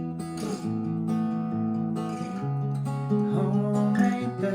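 Acoustic guitar plays the verse of a song, a few seconds of sustained, ringing chords strummed close and clear with no voice.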